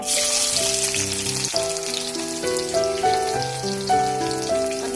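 Onion fries in oil for a rohu fish curry, a steady close sizzle and crackle heard under prominent background music with sustained melodic tones, and no talking.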